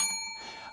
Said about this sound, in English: Okay, that's enough Bell for this week.